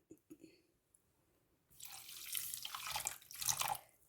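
Water poured onto sugar in a pan to make syrup for boondi laddu, a soft, close running trickle that starts after a few light taps and continues for about two seconds.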